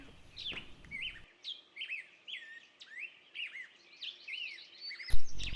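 Small wintering birds chirp and tweet in a series of short, bright calls, fairly close, with brief pauses between phrases and a burst of noise at the end.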